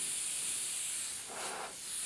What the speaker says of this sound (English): Make sure that's spraying.